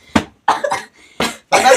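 A person coughs several times in quick, separate bursts, loud and close, with short silent gaps between the harsh barks.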